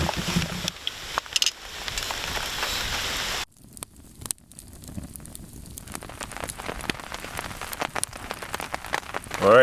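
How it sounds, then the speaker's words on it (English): Heavy rain falls on a campsite in Algonquin Park, a dense steady patter of drops close by. It is interrupted by a brief lull and muffled shifts, then it returns with scattered nearer splashes. "here comes the real rain"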